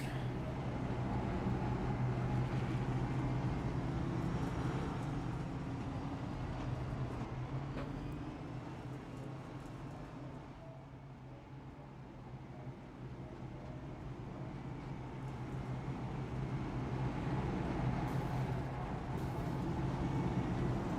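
Race cars circle the track at the LA Coliseum during an NGCS all-star race, a continuous dense engine roar that dips briefly midway and swells again, with no voices over it.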